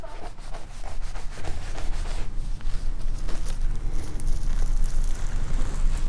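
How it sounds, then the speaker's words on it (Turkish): Fuzzy okra pods rubbed together inside a kitchen towel, giving a steady, close scuffing and brushing texture with soft rustling pulses over about six seconds, no talking. "İki bir havlunun arasında alıyoruz bamyalarımızı. Şu şekilde yapıyoruz."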